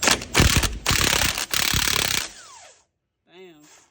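A socket wrench ratchets loudly and rapidly on a shock absorber bolt of a 2000 Chevrolet Silverado during a Bilstein 5100 shock install. It runs in close, rough bursts for about two seconds, then stops before a brief voice.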